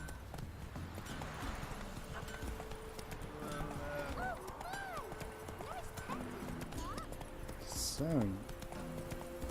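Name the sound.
horse Roach galloping in The Witcher 3 video game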